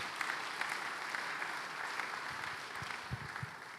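A church congregation applauds during a Sunday service: a fairly faint, continuous patter of many hands clapping for a few seconds, with a few heavier thumps near the end.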